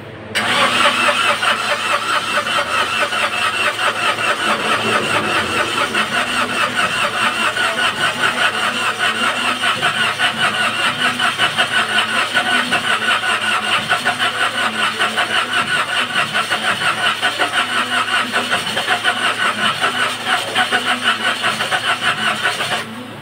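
A Toyota Wigo with a likely weak battery cranks continuously without catching, a steady, close mechanical churning sustained at even loudness for over twenty seconds with no voices.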